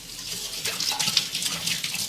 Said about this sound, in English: And turn the water on.